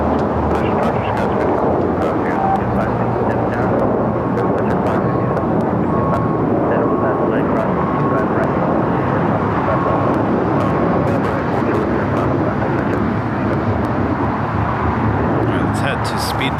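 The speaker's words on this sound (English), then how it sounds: "Speedbird, next arrival at 25 left. Flight 283. Coming in from London Heathrow," A British Airways Boeing 777-300ER arriving at LAX from London Heathrow on runway 25 left, loud sustained jet roar throughout, with radio chatter and voices over it.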